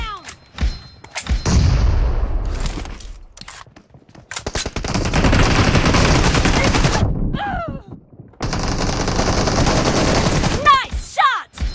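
PUBG video game gunfire comes in long, dense bursts of rapid automatic shots separated by short gaps, loud and close, with a few booming thuds and short in-game voice callouts between volleys.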